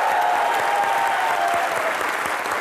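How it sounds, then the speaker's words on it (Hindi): TV comedy studio audience applauding at a show with cricketers as guests, dense and sustained clapping throughout, loud and close with a faint tonal note in the mix. "जोरदार तालियां बनती हैं"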